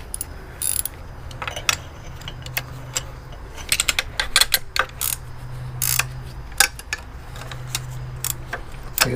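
Quick bursts of ratchet wrench clicking on the transmission bolts of a 2007 Jeep Grand Cherokee Laredo, close and crisp, in short irregular runs with small metallic clinks between them.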